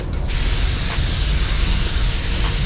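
A spray gun lays a wet binder coat over a coarse-grain metallic colour on an Audi A6 C7 body panel, giving a loud, steady, close hiss that runs unbroken with no talk.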